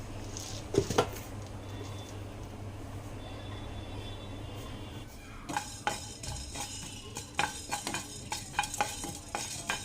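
Coriander seeds dry roasting in a pan on a stove, a soft steady rustle with light scraping, then a run of sharp clicks and taps as the seeds are stirred and shifted against the metal.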